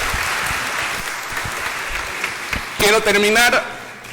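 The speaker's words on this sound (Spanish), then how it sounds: "Felicitaciones y un voto de aplausos para nuestro congresista." Applause at a conference honouring a congressman, steady broadband clapping for nearly three seconds before a speaker's voice cuts in near the end.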